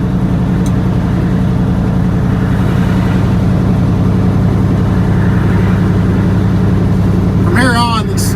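A semi truck descends a steep grade in fifth gear. Its engine gives a continuous close low drone with a pulsing throb, and a brief squeal rises near the end.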